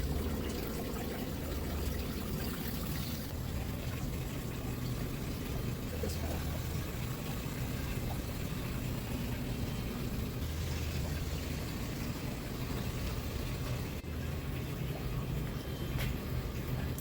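Water runs steadily into aquarium tanks in a fish room through fill valves opened partway, a continuous loud rushing wash that holds level throughout.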